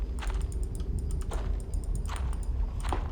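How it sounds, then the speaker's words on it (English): Rapid, furious clicking of a keyboard and mouse during gameplay, close and crisp, with a dense run of clicks over a low steady hum and no talking. "I really wish you guys couldn't be able to hear the mouse clicking furiously on the keyboard"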